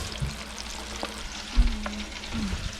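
Fish fillets are dropped one at a time into hot frying oil, giving a steady soft sizzle broken by a couple of brief splashing bursts as each piece goes in.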